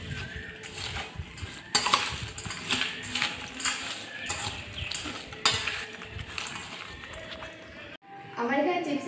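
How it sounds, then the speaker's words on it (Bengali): Chips chaat being mixed with lemon juice and a little mustard oil: repeated clinking and scraping of a spoon against a bowl in bursts, with a brief pause near the end, close up and fairly loud. "ভালোভাবে সব কিছু মিক্স করে নেবো।"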